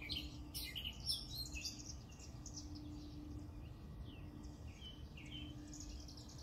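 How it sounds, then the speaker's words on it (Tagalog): Faint bird chirps flutter over a low, steady background hum, distant and intermittent throughout. "pero may ibon dun sa dulo"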